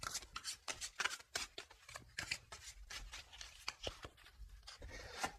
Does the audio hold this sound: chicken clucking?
no